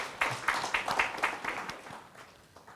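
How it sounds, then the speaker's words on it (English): Guests at the IPA Inspire meet 2017 receive audience applause, a series of distinct claps that rise quickly and then thin out toward the end. "clap for them."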